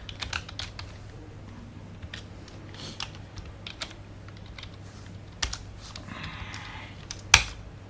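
Quiet keystrokes tapped on a computer keyboard while entering the ls command into a homemade UNIX-like shell, irregular clicks with a sharper final key press near the end, no voices.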